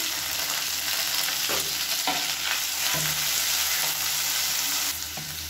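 Onions with handfuls of mint and coriander leaves fry in a hot pan for masala kushka, giving a steady close sizzle punctuated by several distinct spatula scrapes and stirs, with no talking.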